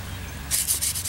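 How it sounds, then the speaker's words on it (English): Short rhythmic rasping strokes of sandpaper against a hand-carved wooden spoon, outdoors in a yard, close and fairly soft, starting halfway through after a quiet hum. "I'm just sitting out here in the yard doing some sanding"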